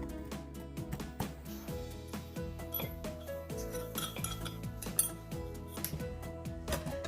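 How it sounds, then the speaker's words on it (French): Black peppercorns being crushed in a mortar or with a utensil, making repeated close metallic clinks and grinding knocks in an irregular rhythm, with no talk. "J'écrase ensuite le poivre en grains."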